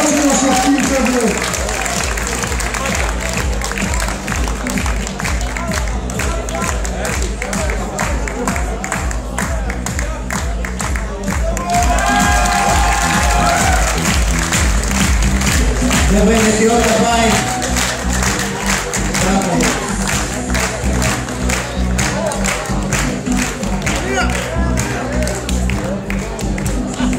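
Audience applause fills a young men's physique bodybuilding contest in 2016, a steady dense clapping wash that runs the whole time under an announcer's voice.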